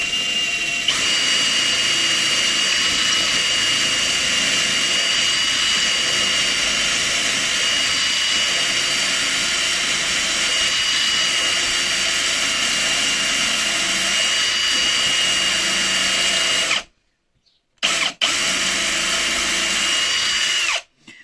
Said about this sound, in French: Là, je perce.